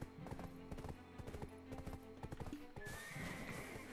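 A horse in the video game Black Desert Online trots with rapid, rhythmic hoof clip-clops, then lets out a loud whinny, all close and busy with no talking.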